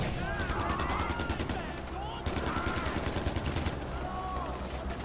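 AK assault rifle gunfire from the Far Cry 4 video game, in rapid, loud automatic bursts with brief pauses between them, under a steady game backdrop.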